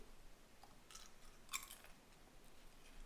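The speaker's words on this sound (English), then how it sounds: "I hope you heard that crunch, because that's one of my favorite parts of the pain au chocolat." Faint, close crisp crunches of flaky pain au chocolat being bitten and chewed, with one sharper crackle standing out against a quiet background.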